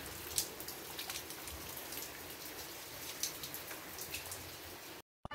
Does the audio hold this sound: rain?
yes